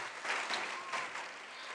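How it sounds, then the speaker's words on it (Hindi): Audience clapping for children at a school annual day event, a short burst of dense applause from a crowd in a hall, steady and fairly close. "सभी बच्चे के लिए वापस एक बार जोर से तालियां बजाएं।"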